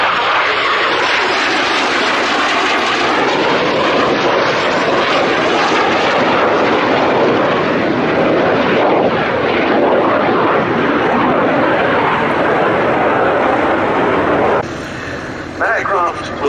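An ex-military classic jet aircraft, restored after fourteen years, flies past with a loud, sustained broadband roar that holds steady, then thins out near the end while a voice talks over it.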